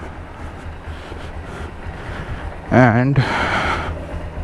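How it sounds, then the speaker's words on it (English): A motorcycle idles while warming up before dawn, a steady low rumble running under the whole stretch, with a brief spoken word near the middle. "My bike is warming up"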